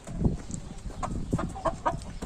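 Hens in a coop give a few short, close clucks scattered unevenly across a brief moment, with no speech over them.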